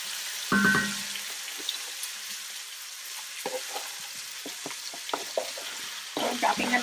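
Vegetables for a white bean soup hiss and sizzle in a pot, with a loud clatter as they drop in, then a run of light scraping stirs over a steady frying sizzle.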